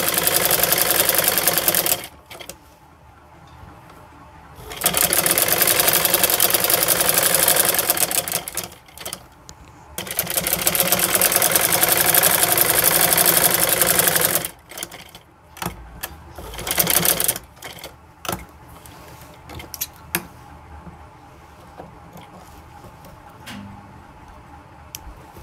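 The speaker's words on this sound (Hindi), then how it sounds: "यहाँ इसके ऊपर हम सिलाई लगाएंगे और इसको हम सेट करेंगे" A sewing machine stitches a V-neck in loud, rapid bursts of several seconds each, broken by quiet pauses with faint handling clicks, and a final short run before the fabric is set aside.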